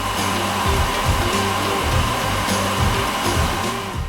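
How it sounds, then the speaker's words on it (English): A hair dryer blows steadily nearby, a constant loud whooshing hum with a faint motor whine and slight fluctuations. "I'll use this hairdryer if you don't mind"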